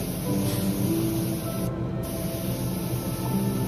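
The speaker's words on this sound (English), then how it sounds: "This airbrush is spraying like a moon shape spray." A steady, fairly loud hiss of an airbrush spraying paint onto a 1/24 scale SF90 model car, continuous with a brief dip in the high end partway through.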